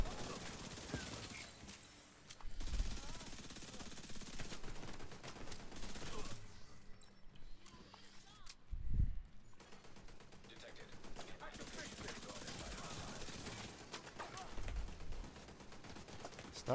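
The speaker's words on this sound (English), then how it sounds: "Stop shooting at me." Enemy gunfire in a video game, rapid bursts and scattered shots running throughout, with a couple of heavy booming impacts, all amid dense game sound effects and music.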